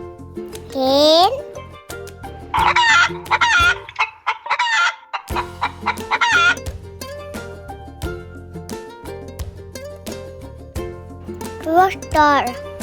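A hen clucks in short, rhythmic bursts over a bright children's music bed, with a voice or squeaky imitations popping up between phrases; the clucks sit fairly close and mid-loud, partly masked by the tune.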